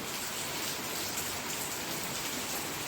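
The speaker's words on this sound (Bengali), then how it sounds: "এই যে ছিট করে বৃষ্টি হয়েই যাচ্ছে না," Steady rain falls in a dense, even hiss of drops on surfaces, constant and moderately loud with no other sounds standing out.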